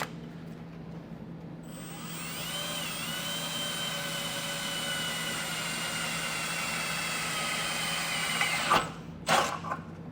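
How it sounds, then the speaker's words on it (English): A hole saw cuts into the steel bumper beam of a 2024 Ford Escape, a steady whining drill run of about seven seconds with rising harmonics, ending in a few sharp louder bursts as it breaks through. "take a hole saw and we're going to drill a hole out"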